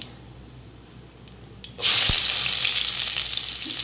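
Onion hits hot oil in a wok with black cumin and chillies, a quiet murmur bursting into a loud, sustained crackling sizzle that continues close and steady.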